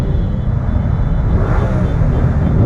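Motorcycles filter between lanes during a street protest against paid motorcycle parking and low-emission zones, giving a steady, loud, close engine rumble with no talk over it.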